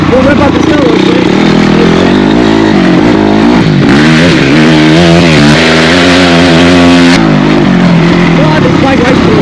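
A 2022 Honda CRF250R dirt bike revs hard while riding through snow, its loud buzzing engine climbing and falling in pitch, with a sharp rise in revs partway through before it eases back.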